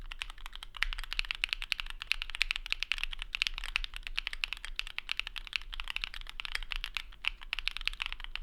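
Continuous fast typing on a custom Lumen Key mechanical keyboard, crisp clacky keystrokes in a steady stream, close up with no talking.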